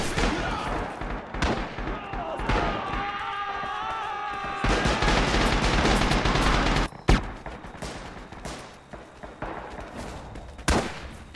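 Incoming mortar and gunfire in the World War II shooter Rising Storm, with loud, dense bursts of explosions and rapid shots, sharp blasts standing out, and faint shouting underneath.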